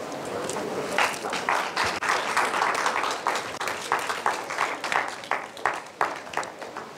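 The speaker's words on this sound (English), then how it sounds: "Let's have a big round of applause" An audience at an engineering day ceremony applauds in a steady, moderately loud round of clapping, with individual claps audible throughout and no speech over it.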